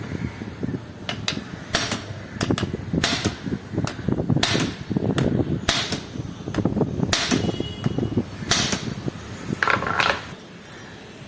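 Repeated metallic hammer strikes, loud and close, drive a pin during bicycle mid-drive and front wheel servicing, landing at an uneven rhythm with small mechanical clinks between blows.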